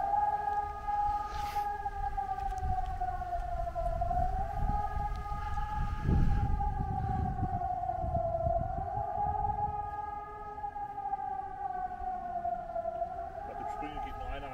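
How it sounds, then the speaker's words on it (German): A civil defense warning siren sounds during a nationwide warning-day test in Bad Lippspringe, its steady wailing tone rising and falling slightly as it carries loudly over the town, with people talking briefly nearby. "Wir filmen nur die Sirene."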